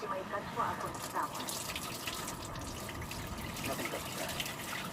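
Hands are washed under running water, a steady close gush and splash that lasts throughout with slight shifts as the hands move through the stream.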